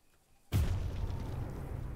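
A sudden booming explosives blast in the game Choo-Choo Charles hits after a quiet moment, followed by a rumbling, crackling tail that lingers.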